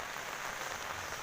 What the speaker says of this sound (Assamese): পুৰা বৰষুণ পৰি আছে ৰাতিপুৱাৰ পৰা আজি ধামাকা বৰষুণ দিছে